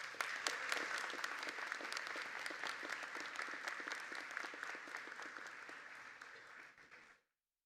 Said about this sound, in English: Let's give them a round of applause and thanks